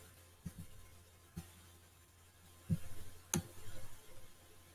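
A handful of sparse, faint keyboard key clicks sound over a quiet background hum, without speech.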